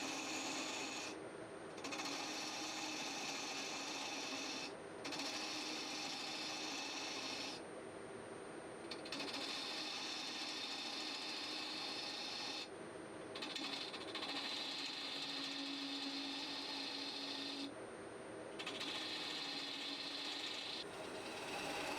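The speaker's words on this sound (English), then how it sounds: "I'm using a bowl gouge to remove the bulk of the material." A bowl gouge cutting a wooden box lid on a spinning wood lathe, removing bulk material with a steady close scraping hiss that drops out briefly several times as the tool lifts off.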